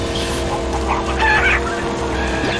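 A chicken clucks and squawks in the PS2 kart-racing game Crash Tag Team Racing, loud and close over a steady engine drone and game music.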